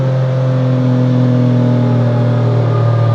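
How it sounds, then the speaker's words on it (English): A Porsche Cayman GT3 with PDK dual-clutch gearbox accelerates loudly from the cabin, its engine holding a steady, strong droning note with rising harmonics and no break in sound. "So I'm accelerating again, a little more low"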